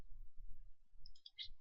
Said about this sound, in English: Hit enter again to reactivate the command.